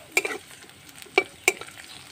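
Onion and green chilies frying in a pan, with a faint sizzle beneath three or four sharp scraping clinks of a utensil stirring against the metal.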